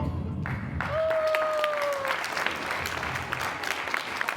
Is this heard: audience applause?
yes